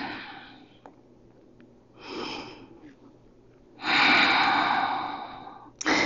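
Slow, deep breaths drawn in and pushed out during a Pilates child's pose, coming as a few long, close airy bursts separated by quiet pauses, with no talking.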